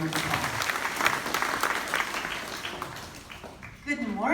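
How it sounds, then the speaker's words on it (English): An audience claps at an elementary school ground breaking ceremony, dense applause that thins out toward the end before a voice begins speaking. "can we give her a big round of applause?"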